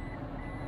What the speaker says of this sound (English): This thing's going to beep the whole time